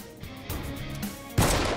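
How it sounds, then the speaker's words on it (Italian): A gunshot in the video game Persona 3 Reload, a sudden loud blast that cuts in near the end over a steady game background and rings on briefly. "Raga, ha sparato a Junpei!"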